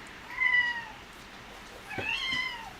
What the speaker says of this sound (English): my cat wants me now. She meows so often.